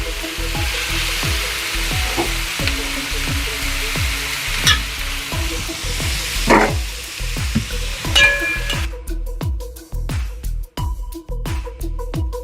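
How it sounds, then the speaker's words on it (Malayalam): Sliced onions sautéing with salt in a hot pan: a steady close sizzle with frequent scraping and knocking from a spatula or spoon stirring them, and no voices. "സവോള പെട്ടെന്ന് വഴന്ന് കിട്ടാൻ വേണ്ടി ഉപ്പ്."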